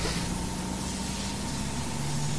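Water spraying from a fire truck's tower ladder at a working fire in Brooklyn, a steady broadband hiss with a low engine hum underneath, continuous and fairly distant throughout.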